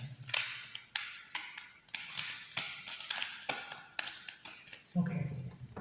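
A deck of tarot cards is shuffled by hand at close range, producing a series of quick, crisp riffling slaps and taps in irregular bursts over about six seconds.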